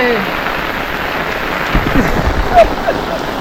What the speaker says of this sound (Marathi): आशिरा आशिरा पाऊस बघा आणि इकडे गणपती येत आहेत म्हणून सगळी तयारी चालली आहे पाऊसच पाऊस बाप रे